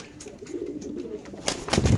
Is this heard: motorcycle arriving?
no